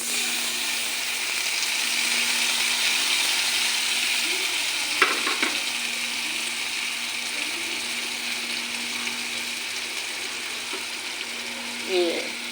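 A constant bright sizzle of boal fish pieces frying in hot oil, loud and close, with occasional clinks of a utensil stirring the pan.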